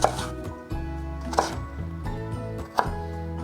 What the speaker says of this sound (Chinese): 把红萝卜切片，把红萝卜切条， 切丁